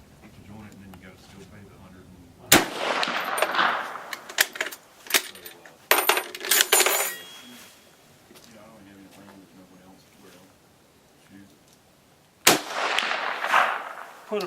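Carcano M91/38 Cavalry Carbine rifle fired with battle sights at a range, three loud sharp shots spaced several seconds apart, each followed by a ringing decay, with someone talking quietly between them.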